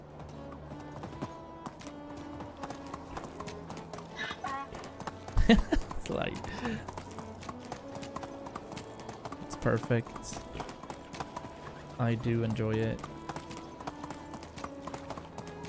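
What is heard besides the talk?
donkey noises in a video game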